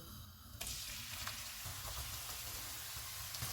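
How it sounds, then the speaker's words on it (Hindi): Chopped onion hits half a cup of hot oil in a karahi, setting off a sudden, steady sizzle that continues fairly faintly without any talking. "ऑयल गर्म हो गया, इसमें चॉप किया हुआ एक प्याज डालेंगे"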